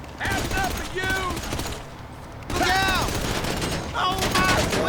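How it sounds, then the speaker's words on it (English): Gunfire in Grand Theft Auto Online, fired in short controlled bursts: two loud, dense volleys of rapid shots separated by a brief lull, with a voice talking over the shooting. "Taking a short, controlled burst, so all of my bullets make their mark."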